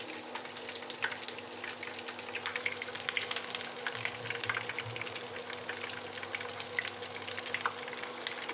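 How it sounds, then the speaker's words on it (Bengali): Cauliflower pakoras frying in hot oil over low heat, a steady close crackle and sizzle with scattered pops running throughout, no voices. "এবার পকোড়ার আকারে শেপ দিয়ে ভেজে নেব।"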